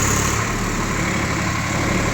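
A Swaraj 855 tractor running with its brakes held: a steady, unbroken low engine drone with a faint high whine, close and constant throughout, no talking.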